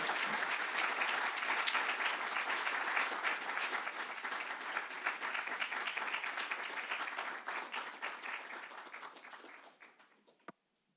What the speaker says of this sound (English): a big round of applause for our opening session speakers